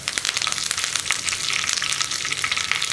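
Curry leaves and dried red chillies crackle and sizzle in hot oil with frying onions, a dense, bright, continuous spatter with sharp pops throughout, close and fairly loud.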